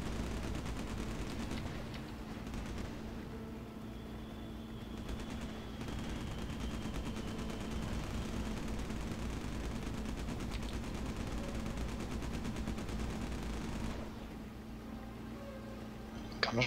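Aircraft gunners fire steadily in the Battlestations Pacific combat game around a flying boat, a dense continuous rattle of gunfire layered over a droning engine hum, loud and sustained throughout.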